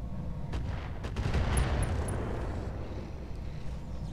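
Mech weapons fire in the Roguetech BattleTech game, a series of heavy booming shots and blasts overlapping with a rumbling low end, loud and close, with a few sharp impacts and no talk.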